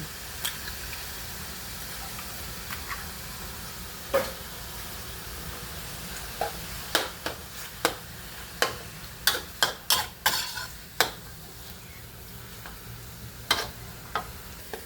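Eggs hiss in a pan for stir-fried bamboo shoots with pork and glass noodles, a faint steady sizzle with a cluster of sharp clicks and taps from stirring utensils, no talking.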